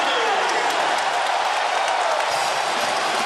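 A large arena crowd at a Kentucky versus LSU college basketball game applauds and cheers in a steady roar, with a commentator talking over it.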